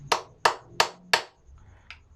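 Four light, sharp metallic taps from a hammer on a bolt, evenly spaced, close and clear, then a fainter small click after a short pause.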